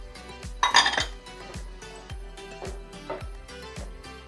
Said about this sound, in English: So I'm going to add the broccoli right now.